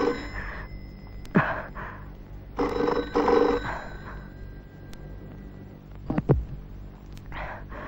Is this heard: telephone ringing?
yes